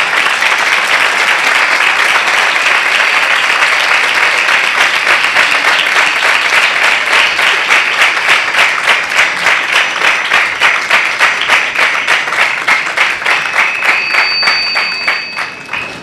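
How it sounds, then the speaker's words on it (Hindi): Loud congregation clapping at a Sunday church service in Lahore, starting as dense applause that settles into rhythmic unison claps on a steady beat before tapering off at the end. "यीशु के जलाल के लिए तालियां बजाएं।"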